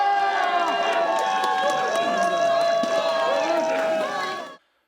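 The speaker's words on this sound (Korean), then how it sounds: "법원 주위에는 박수와 함께 시민들의 환호성이 터져나왔습니다" Citizens gathered outside a courthouse cheer and applaud after a not-guilty verdict, a loud crowd roar with scattered shouts and clapping that holds steady, then cuts off abruptly near the end.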